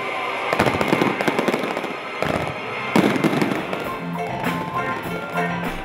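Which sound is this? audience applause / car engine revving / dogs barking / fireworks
fireworks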